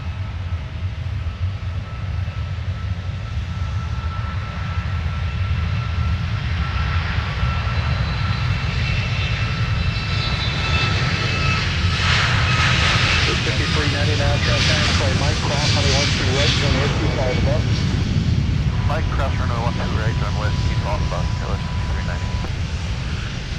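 An airliner at Minneapolis–Saint Paul airport roars steadily as it takes off from runway 17, a loud continuous engine rush with rising whine, while radio voices talk over it.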